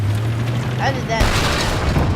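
A tank's coaxial machine gun on an M1 Abrams fires in Battlefield 4 as a loud, dense burst of rapid game gunfire, with booming impacts layered over a low engine rumble.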